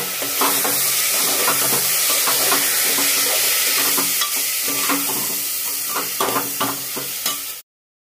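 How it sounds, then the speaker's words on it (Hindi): Spices with a spoonful of coriander powder frying in a pan, stirred continuously with repeated scraping clicks over a constant close sizzle that cuts off abruptly at the end. "धनिया पाउडर 1 चम्मच, मसाले को अच्छे से भूनना है।"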